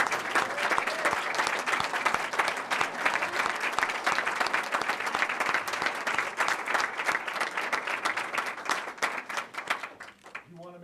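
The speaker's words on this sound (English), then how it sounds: "How about a big round of applause for all?" Audience at a school district board of education meeting applauds students with sustained, loud clapping for about ten seconds, mixed with voices, before it tapers off abruptly.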